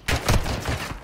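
Burst of automatic gunfire in a Call of Duty match, a loud rapid volley that starts abruptly and rattles on for about a second, with no talk over it.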